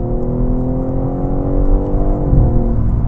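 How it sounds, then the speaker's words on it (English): A BMW M3 Touring's six-cylinder engine runs with a steady, loud harmonic drone, holding near constant pitch before the revs shift slightly, close and continuous with no talk over it. "That engine up front, that 6-cylinder, is just a work of art."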